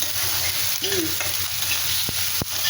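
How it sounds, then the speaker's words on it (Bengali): Tomato and cashews fry in a pan, giving a close, steady sizzle while a spatula stirs with a few sharp scrapes and taps. "দেখো এই ভাজা ভাজা হয়েছে,"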